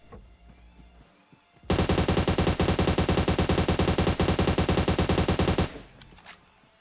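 A long, loud burst of rapid automatic gunfire in a shooting video game, sustained for about four seconds with an even machine-gun rhythm, preceded and followed by quieter in-game ambience.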